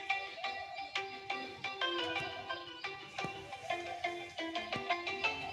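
A phone ringtone plays a bright, repeating electronic melody of quick plucked-sounding notes, steady and moderately loud throughout with no talking over it.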